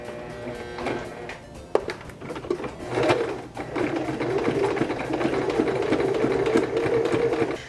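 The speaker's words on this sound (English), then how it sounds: "then I'm going to sew another seam" Sewing machine stitching a seam on headband fabric, a steady whirring motor run that builds and holds through the second half, preceded by a few clicks and handling knocks, close by with no voice.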